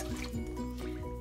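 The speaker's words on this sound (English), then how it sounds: "I'm going to throw in the water" Water poured from a container into a pot of dry rice and seasonings, a steady liquid fill with gurgling and splashing throughout, close and moderately loud.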